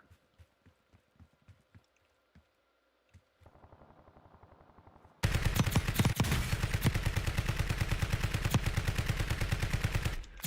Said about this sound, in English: we got a whole bunch of people running to that gunfire